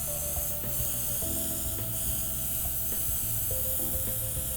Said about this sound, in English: you're just putting your airbrush system about 6 to 8 inches away from your face, and you're just spraying